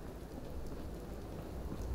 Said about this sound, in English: as it begins to rain.